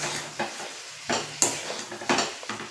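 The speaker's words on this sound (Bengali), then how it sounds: "আজকে রান্না হচ্ছে ডিম কষা" Egg curry (dim kosha) being stirred and fried in a pan, with repeated scraping stir strokes and bursts of sizzle at a steady, close rhythm and no talking.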